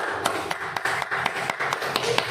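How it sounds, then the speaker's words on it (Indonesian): Classroom applause for a classmate, a few students clapping in a loose, irregular rhythm that stays close and moderately loud throughout, with no talking over it. "sekali lagi beri aplaus lagi untuk temannya yang berani maju ke depan"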